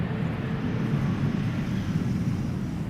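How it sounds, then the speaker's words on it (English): An Embraer E195-E2 airliner arrives at Schiphol Airport, a steady broad roar of jet engine noise overhead with some wind on the microphone, continuous and fairly loud with no talk. "E2 Embraer 195 coming in."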